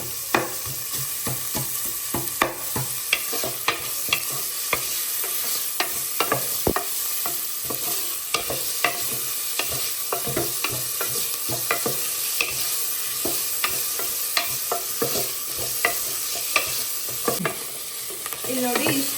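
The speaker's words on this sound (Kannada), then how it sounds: "ಮೀಡಿಯಮ್ ಫ್ಲೇಮಲ್ಲಿ ಸ್ವಲ್ಪ ಉಟ್ಕೊಳ್ಳಿ" Capsicum stir-fried in a pan over a medium flame: a steady sizzle runs throughout, with frequent sharp scrapes and clicks of a spatula stirring the pieces, close and fairly loud, with no talking.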